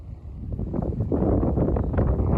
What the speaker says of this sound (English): It wasn't windy when we set up, and then it's still windy now.